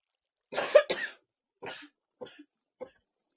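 A loud double cough, then three shorter, fainter coughs spaced out, close by with silence between them.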